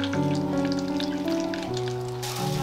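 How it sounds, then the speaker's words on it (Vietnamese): Lotus-root spring rolls coated in egg and panko deep-fry in hot oil, giving a continuous crackling sizzle over a background of music. "Kế bên thì chiên chả giò."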